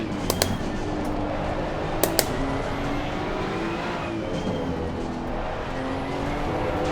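A Maserati GT2 race car in Assetto Corsa Competizione holds a steady, loud engine drone through a wide corner entry with slight oversteer, the pitch sliding gently, with a few sharp clicks early on and again around two seconds in.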